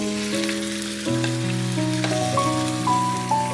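Chicken drops into hot oil with turmeric, cinnamon, black pepper, cloves, black cardamom, cumin and chillies, giving a steady close sizzle. A tonal hum runs underneath.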